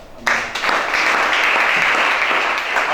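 A church congregation breaks into sustained applause that starts abruptly and holds steady and dense for nearly three seconds, close and loud in a reverberant hall.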